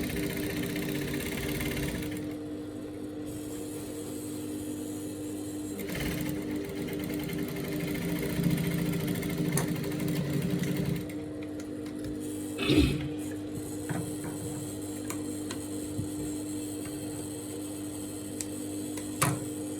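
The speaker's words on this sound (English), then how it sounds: "So you're going to top stitch on that sewing where you sewed." A sewing machine top-stitches a pocket on straight-leg trousers, running in a steady mechanical whir with brief pauses and a few ticks, near and fairly quiet, with no voices.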